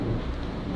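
Heavy thunderstorm rain pours down over a city, a dense steady roar with low rumbling underneath, continuous and loud.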